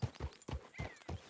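Video game horse hooves clop in a quick, even rhythm of about five close, punchy thuds, with a brief thin whinny over the middle.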